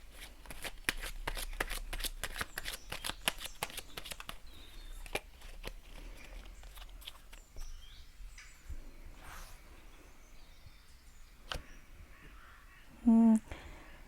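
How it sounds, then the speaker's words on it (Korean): Tarot cards shuffled by hand before an advice card is drawn, a fast run of crisp riffling flicks followed by scattered soft taps and slides, close and alone, ending with a brief louder knock. "바나나님을 위한 조언 카드 한 장 뽑아보도록 하겠습니다"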